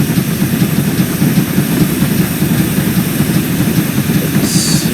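A GWR 72xx class Great Western steam tank engine in Train Simulator, running with a loud, continuous rhythmic chuffing and hiss from nearby, unbroken throughout.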